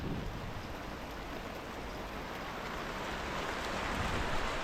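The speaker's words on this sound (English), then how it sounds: "Well, it's raining flat out now." Rain pours down steadily in a dense, even hiss of broadband noise with no pauses or voices.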